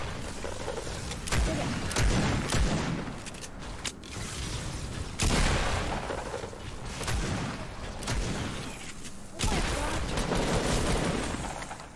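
Gunfire in Fortnite, sharp shots spaced every second or two among mechanical clatter and game effects, fairly loud and dense throughout.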